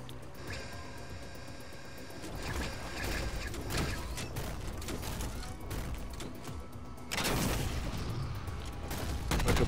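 Xbox game combat with a Mantis's machine gun and rocket launcher, heard as a dense, continuous clatter of rapid fire and mechanical noise with heavier blasts near the end, fairly faint overall.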